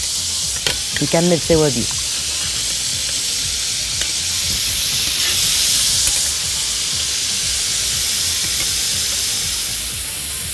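Shrimp sizzle loudly on a grill while sauce is spooned over them, a steady hissing fry that swells in the middle, with a brief voice speaking near the start.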